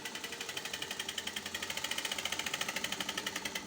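A sewing machine stitches fabric for a shirred smock dress, a fast, even mechanical chatter of needle strokes that speeds up and stays steady, close and moderately quiet.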